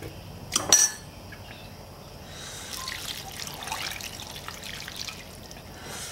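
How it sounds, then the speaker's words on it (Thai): Soup broth poured over instant noodles in a bowl for a spicy tom yum pork bone dish, a soft trickling pour with a couple of sharp utensil clinks near the start, close and fairly quiet. "เทน้ำซุปลงไปนะครับผม"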